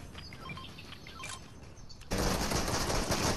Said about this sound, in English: just keep shooting the tree